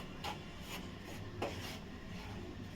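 A milk powder modak mixture is stirred in a pan over low heat, giving a soft, steady scraping and rubbing with a few louder strokes, close by and with no voices.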